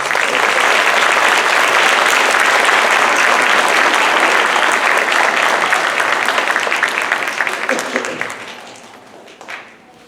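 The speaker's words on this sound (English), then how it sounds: "Give these kids a round of applause." Audience applause fills an elementary school awards ceremony, dense and steady clapping from a large crowd holding for about eight seconds before tapering off into a few scattered claps.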